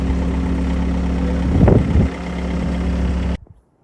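A skid steer engine runs at a steady, loud idle, its low rumble swelling briefly in the middle before cutting off abruptly near the end.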